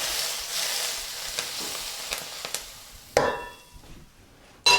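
Very hot oil poured over spices for a salad, hissing into a bright broad sizzle that fades, then crackles with a sharp bang and later another loud burst near the end.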